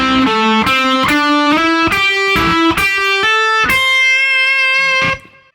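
Electric guitar plays a solo: a clean, close melodic run of about ten distinct picked notes, some bent, ending on a long sustained note that rings and then cuts off, with no talking.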